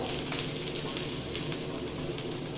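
Eggplant pieces fry in a couple of spoons of hot oil with salt and a little turmeric for Bengali neem begun, giving a steady, dense sizzle that crackles evenly throughout with no voices.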